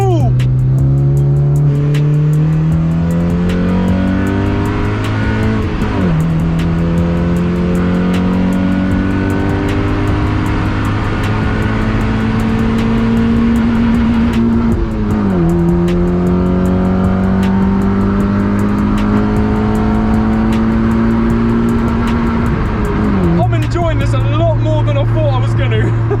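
A Honda Civic running without an airbox revs hard under way, its engine note climbing repeatedly through the gears with brief dips at each shift, loud and close inside the car as someone talks over it.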